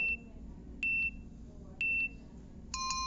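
Beeps from an interval training timer app during a shuttle run with cones every 50 meters: three separate short, high electronic beeps spaced about a second apart, then a brighter multi-tone chime sequence at the end, with faint background noise.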